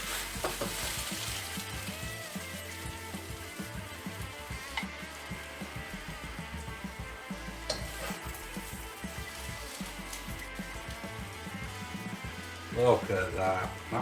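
Chilies sizzling in a hot pan alongside spicy seabass and vegetables, a steady crackling fry with occasional stirring clatter, fairly close and moderately quiet, with brief talk in the background.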